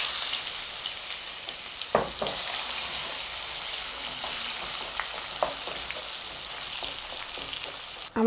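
Sliced onion sizzles in hot oil with bay leaf, dried red chillies, cardamom, cinnamon and cloves, a steady close frying hiss with a few stirring clatters throughout.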